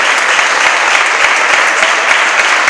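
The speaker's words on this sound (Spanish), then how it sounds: "¿Cuántos pueden aplaudirle esto?" A church congregation at an evangelical sermon breaks into loud, continuous applause, many hands clapping together with a few sharper claps standing out in the dense wash.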